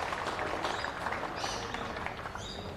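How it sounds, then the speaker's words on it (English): Outdoor applause from spectators at a school knockout grand final, Henley High School versus Adelaide High School, as a steady dense patter of clapping lasting throughout at moderate distance. "Can we give both teams a round of applause, please, for their efforts?"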